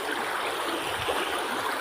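A stream of flowing water rushes steadily and close by, a broad continuous wash with no voices over it.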